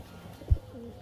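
Pigeons in a loft give a soft, faint coo with a brief low thump in the middle, and the rest of the moment stays quiet with no talking.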